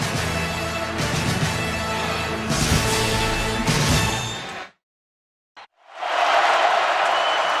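A stadium crowd roars at a college football game between Alabama and Florida, loud and sustained for several seconds. The sound cuts to near silence, then a second burst of crowd noise returns.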